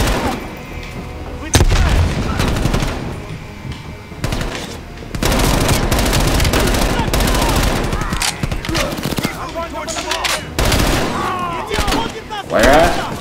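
Gunfire in Call of Duty Black Ops Cold War, with loud, dense bursts of automatic fire and booming shots coming in waves across the clip and a player talking over them.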